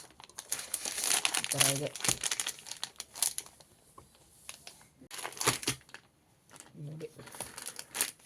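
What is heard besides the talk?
unwrapping the packaging of an A5 sketchbook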